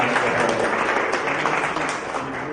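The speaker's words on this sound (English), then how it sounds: "So, round of applause for her" Crowd applause at an election night victory party for a U.S. Senate campaign, a dense, continuous roar of clapping held steady at fairly loud level through the short stretch.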